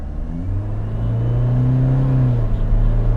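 A modified 2016 Toyota Fortuner VRZ diesel with a replaced turbo and intercooler piping revs up, its close, loud engine rising steadily in pitch over a few seconds, with no talk.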